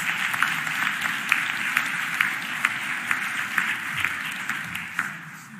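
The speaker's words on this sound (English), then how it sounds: "Give that exhibit a round of applause." Applause for an exhibition at a Philadelphia mayoral budget address: a dense wash of clapping from a large indoor crowd, steady throughout with a few sharper individual claps standing out, no talking over it.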